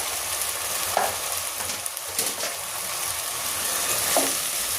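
Mung beans sautéing in a pan with browned garlic, a continuous close sizzle with a few light scrapes of stirring and no talking.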